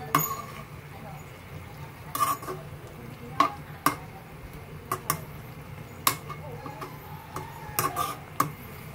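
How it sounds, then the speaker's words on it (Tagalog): Food being gently stirred in a cooking pan, with soft scraping and intermittent clinks of utensil against the pan over a low background hum, close and moderate in volume. "Haluin natin mga idol ng mahinahon, mahinahon lang."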